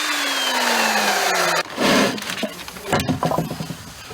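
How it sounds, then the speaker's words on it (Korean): A power drill boring holes into ALC blocks at a masonry site: a rising motor whine at first, then rough, gritty grinding bursts into the block, close and fairly loud. "블록을 쌓는 조적 현장에서 뜻밖에도 가장 먼저 하는 일은 블록에 구멍을 뚫는"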